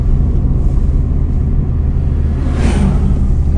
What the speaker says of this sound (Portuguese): Olha os caminhões aí,